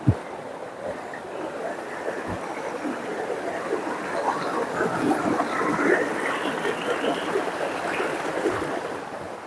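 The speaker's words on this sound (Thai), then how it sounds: "ฝั่งนี้ก็จะเป็นน้ำตกนะครับน้ำตกลงมา" A mountain forest waterfall rushes steadily as broadband water noise, with a few low thumps from wind or handling near the microphone.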